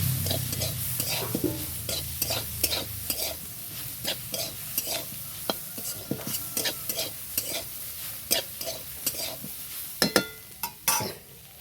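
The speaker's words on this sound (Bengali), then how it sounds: "মশলা দিয়ে আমার কষা হয়ে গেছে" Coriander powder, black pepper and red chili powder sauté in a pan with a soft sizzle under rhythmic, repeated scraping stirs of a utensil, close and distinct.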